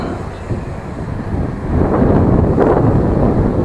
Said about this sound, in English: It is super windy, but it is flying.